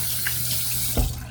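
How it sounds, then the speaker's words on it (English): Tap water runs steadily into a bathroom sink as hands are rinsed after a shave, a close, continuous splashing flow with a brief clunk near the end and no voices. "Let me rinse my hands off real quick."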